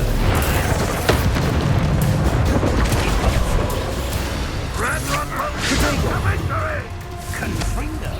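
A Confringo blasting spell goes off in the game Hogwarts Legacy, a loud booming blast layered with whooshing and crashing effects, followed by further rumbling impacts while voices speak over the action.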